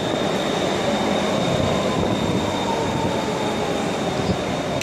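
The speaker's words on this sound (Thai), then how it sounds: "รถไฟฟ้ามาแล้ว" An electric skytrain on the Samrong line pulls into a station at night with a loud, steady rumble of wheels on rails and a faint high squeal, heard up close on the platform, with no talking.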